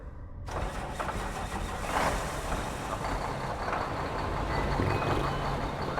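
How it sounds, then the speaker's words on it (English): A vehicle's diesel engine in a video game starts with a sudden onset, then rumbles steadily and loudly with a low, throaty drone, with a faint high tone near the end and no speech over it. "I like how it still sounds like a diesel engine."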